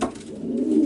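Racing pigeons back home in the loft after a race, giving a close, soft, low cooing that swells and continues steadily through the short moment, with no talk.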